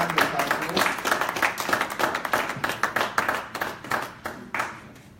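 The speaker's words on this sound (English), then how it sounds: "So let's give her a round of applause." Applause at a formal induction and investiture lecture. A loud round of clapping from a gathered audience fades over several seconds into scattered, separate claps.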